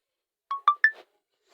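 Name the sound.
SMS notification sound on phone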